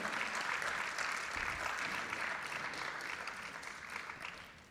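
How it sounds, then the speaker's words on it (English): An audience at a Bharatanatyam Arangetram dance recital gives a round of applause for the dancer's guru, a continuous, even wash of many hands clapping, moderately distant and fairly soft, easing off slightly toward the end. "So big round of applause for her."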